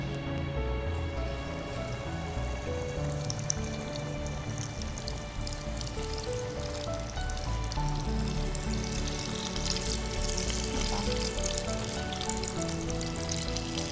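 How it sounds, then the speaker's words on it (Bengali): Steady, dense crackle and sizzle of fish rolls deep frying in hot refined soybean oil over high flame, loud and continuous throughout with no talking. "তেল গরম হয়ে গেছে, ভাজার জন্য আমরা ইউজ করছি doctors choice healthy soybean refined oil."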